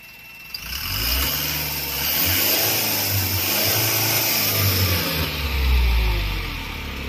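A car engine held at raised revs during an RPM check, a steady, loud mechanical drone with slight swells in pitch and no talking.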